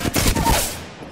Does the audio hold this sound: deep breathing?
no